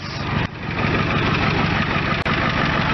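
A 1991 Ford F250 pickup with the 7.3 IDI diesel idles close by, a loud, steady clattering rumble with a brief dip partway through and no talking.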